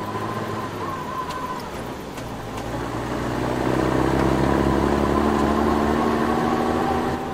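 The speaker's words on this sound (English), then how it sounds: "Can you hear that? Trucks?" Military convoy trucks from Commandos: Strike Force rumble past, a steady low engine drone that grows louder and heavier about halfway through, with no voices.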